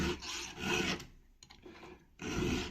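A hand file rasps across a chainsaw chain's cutters in two long, loud strokes, with a short quiet gap and faint metallic clicks between them.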